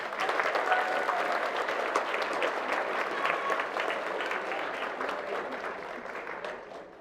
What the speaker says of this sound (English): I think that's worthy of applause. Y'all give them a hand.